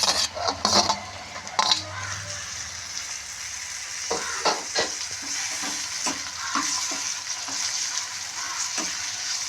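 Onions and tomato frying in a pan for a mushroom curry, a steady close sizzle with scraping stirs and a few sharp clinks of a utensil against the pan.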